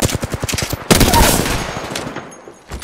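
Apex Legends gunfire: a quick run of evenly spaced automatic shots, then a heavier blast that rings out and decays, followed by one more sharp report near the end.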